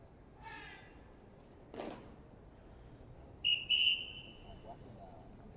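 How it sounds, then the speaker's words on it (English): A ceremonial whistle blows during the Changing of the Guard near Buckingham Palace, a short, shrill, fairly distant double blast above a quiet outdoor crowd murmur. "There we go again, another whistle is blown"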